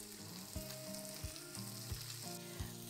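Onion, celery and carrot sizzling in a frying pan, a steady close hiss of frying vegetables with a regular tapping of the spoon or spatula as they are stirred, no voices.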